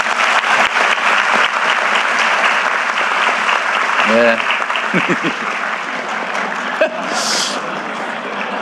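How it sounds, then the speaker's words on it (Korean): A crowd at a public event with the South Korean president on Jeju applauds steadily throughout, a broad wash of clapping with a man's brief spoken acknowledgement and a few short vocal sounds over it. "더 잘하시라고 박수 한번 부탁드립니다"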